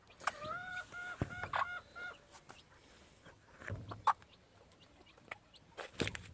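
Henny gamefowl, roosters that look like hens, cluck and call on a farm in a series of scattered, fairly close bursts, with a harmonic crowing-like call early and sharp clucks spread throughout, over a quiet outdoor background.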